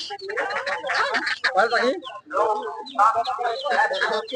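Ducks and chickens clucking and squawking in a crowded poultry market, with people talking nearby throughout.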